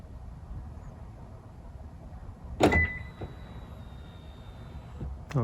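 A Lexus locks by remote app command: a single mechanical clunk with a short chirp, a faint click after it, then a quiet idle hush.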